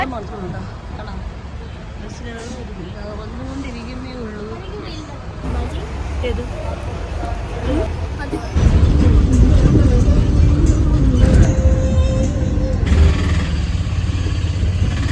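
Interior of a moving bus, with engine rumble and road noise growing louder partway through, under nearby conversation and background chatter from passengers.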